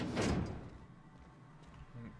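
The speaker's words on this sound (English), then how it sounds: "Shut the door because I'm not some heathen." A door shuts in the video game The Outer Worlds with one solid thud near the start, then fades into quiet interior ambience.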